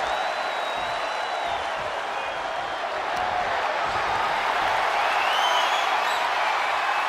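A wrestling arena crowd roars continuously in WWE 2K24 during a CM Punk versus Roman Reigns match, a broad, sustained wash of cheering with scattered whistles and whoops that swells slightly toward the end.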